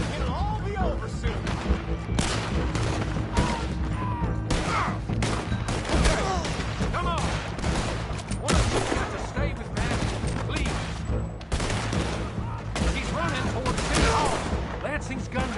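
Dense gunfire from gunmen in the Red Dead Redemption 2 Online video game crackles almost nonstop, with loud sharp shots and heavier bangs layered over a constant battle din, while voices talk beneath it.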